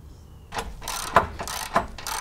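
A ratchet tightening skid plate bracket bolts on a Jeep Gladiator during an aluminum skid plate install: a few short bursts of clicking with sharp metallic ticks, close and fairly loud, no talking.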